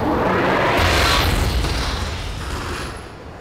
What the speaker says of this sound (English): Now you gotta watch out for the secondary explosion.